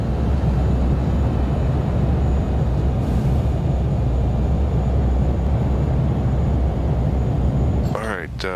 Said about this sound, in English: Touchdown. Spoilers are deployed. And reversers are out.